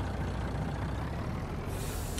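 A tandem dump truck in Farming Simulator 19, its diesel engine rumbling loud and close, then a sharp hissing burst of the air brake near the end.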